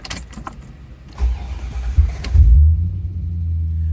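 A 1990 Chevrolet Corvette ZR1 engine cranks a few times, catches with a deep rumble, then settles into a low, steady idle.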